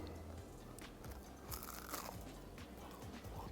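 A few crisp crunches as someone bites into a hot, crunchy fried Panamanian yuca fritter, close and fairly quiet, then soft chewing.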